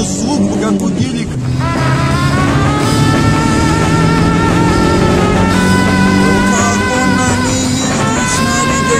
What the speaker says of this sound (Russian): Да у нее звук, как у гелик.